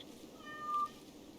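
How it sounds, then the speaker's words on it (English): A pet cat in the colony-building game Rimworld gives a single short synthesized meow, clear but not loud, set over a quiet steady game background with no speech. "we have a cat"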